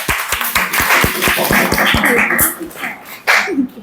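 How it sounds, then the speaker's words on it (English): A small classroom group claps for a student, giving a quick, even run of close, sharp hand claps that loosens and fades near the end. "Big round of applause for her as well"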